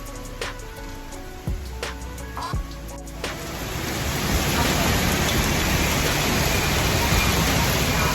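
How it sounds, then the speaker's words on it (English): Heavy rain pouring down, a dense, loud, steady roar of hissing noise that swells in after a few seconds of quieter ambience with a couple of thumps. "that was the real noise, the sound of how loud the rain was when we left"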